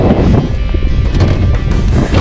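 Steady wind buffeting a microphone outdoors on a cold late-fall day while bass fishing, a continuous low rumble with gusty surges and no voices.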